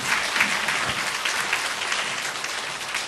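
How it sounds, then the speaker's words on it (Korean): Dense, continuous applause fills a church gathering, even and moderately loud from start to finish. "다시 한번 뜨거운 박수 부탁드리겠습니다."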